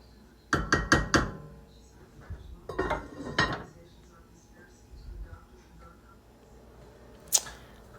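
A pot being stirred and then covered to simmer: a quick run of metal clanks and scrapes near the start, a second cluster a few seconds later, and a sharp lid clink near the end, with a voice talking in between.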